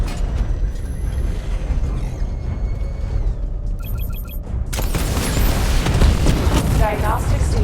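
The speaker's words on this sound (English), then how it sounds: "Charge up missile barrage to level 2 and destroy 4 active targets to complete diagnostic test." A missile barrage fires in a Batman Arkham game, rising from a mechanical whir and beeping charge into a dense, loud rumble of launches and booming explosions.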